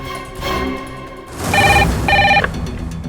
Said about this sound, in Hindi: ठीक है, आप कहते हैं तो मैं पुलिस को फोन कर लेता हूँ।